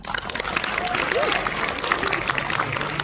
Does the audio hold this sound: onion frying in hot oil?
no